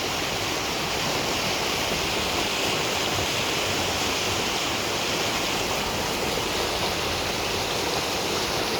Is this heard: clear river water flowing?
yes